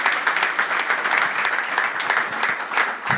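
Dense, steady audience applause fills a tribute event at a teaching and coaching summit, with many hands clapping continuously at an even loudness for the whole stretch.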